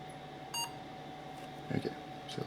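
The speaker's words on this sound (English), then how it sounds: "Alright, a beep is good." An Apple II compatible 6502 computer gives a single short electronic beep at startup, quiet and brief against a low room hum, followed by faint clicks.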